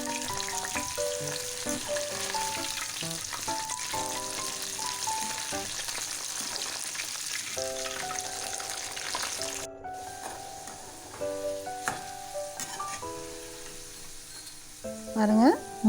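Bitter gourd chilli sizzles in a pan of oil with curry leaves, a continuous crackling fry close by with scattered stirring clinks and a few louder scrapes near the end, no voices.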